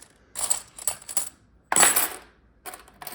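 Handful of coins being sorted through, a few bright metallic clinks and jingles in short clusters, close and fairly quiet with pauses between them.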